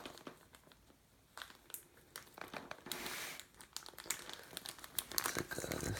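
Packing tape crinkles and tears as it is pulled loose from a McLaren P1 toy car box, a run of close, irregular crackling rips and rustles that grow busier and louder toward the end.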